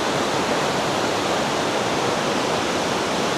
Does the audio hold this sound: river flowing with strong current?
yes